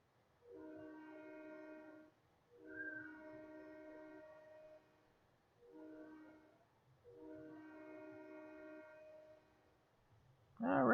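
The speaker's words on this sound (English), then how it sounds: "We're probably going to back this train in." A train moving along rail tracks, heard as four long sustained tonal horn blasts spaced through the span, moderately loud over a low rumble, with a sharp loud burst at the very end.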